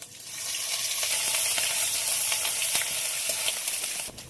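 Grated ginger sizzles steadily in hot oil alongside dried red chillies, panch phoron and bay leaf, a loud, continuous close-up hiss with light crackles and no talking.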